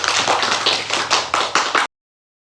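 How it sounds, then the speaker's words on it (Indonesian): A short burst of close clapping in a classroom, several hands beating in quick irregular rhythm, stopping abruptly after about two seconds. "Kasih tepuk tangan."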